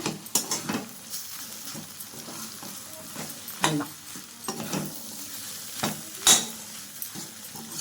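An egg fries in a pan on a gas stove after being flipped, a soft continuous sizzle broken by repeated scraping and tapping of a utensil against the pan.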